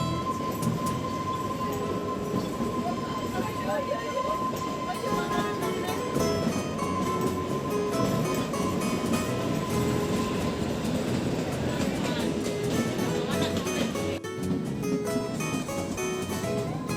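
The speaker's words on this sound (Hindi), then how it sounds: "हमारा ये टॉय ट्रेन काफ़ी अच्छे स्पीड में चल रहा था" Kalka-Shimla toy train running along its mountain track, a steady close rumble of rolling wheels and rattling carriages with a faint whine, continuous for the whole stretch under a light murmur of voices.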